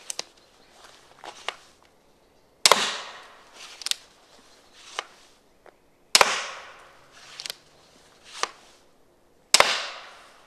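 A homemade pump-action repeating crossbow pistol shoots arrows into plywood, giving three loud, sharp cracks spaced a few seconds apart, each followed by quieter clicks and knocks from re-cocking in between.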